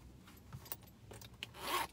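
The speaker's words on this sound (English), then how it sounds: "Zippers work great." A zipper on a vintage black Fossil crossbody bag with chocolate brown leather is pulled open in a few quick rasping strokes, close and clear, ending in one longer, louder zip.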